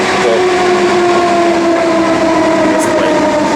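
A train idles at a station in Austria on the line to Vienna Airport, giving a steady, loud mechanical hum with sustained tonal drones throughout and a brief higher whine near the end.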